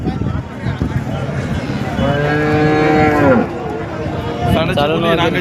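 Cattle at a cow market in Rahuri moo loudly and close by, one long drawn-out bellow standing out above a busy crowd of people talking.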